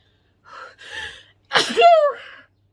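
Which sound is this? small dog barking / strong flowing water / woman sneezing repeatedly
woman sneezing repeatedly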